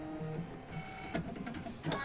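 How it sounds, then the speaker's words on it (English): An embroidery machine stitches out half of an applique egg for a quilt block, a quiet, busy mechanical whir with rhythmic ticks and short repeating bursts. "So now we are stitching out half an egg."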